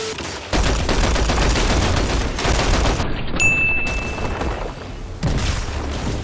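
Rapid bursts of gunfire from a shooter game, loud and dense for nearly the whole stretch, with a short lull near the middle and a renewed volley toward the end.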